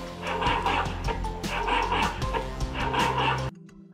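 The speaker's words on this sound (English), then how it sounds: "when it hears a sharp sound now, you will see it will start barking" A robotic dog device emits steady, continuous electronic barking and yipping, loud and close, repeating in quick bursts for several seconds before cutting off abruptly into a quieter hum.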